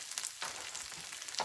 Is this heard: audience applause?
no